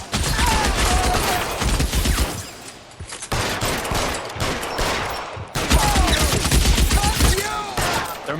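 Dense gunfire rattles through a shootout in the video game L.A. Noire, with rapid volleys of shots crackling almost continuously in three loud bursts, close and heavy, with faint voices underneath.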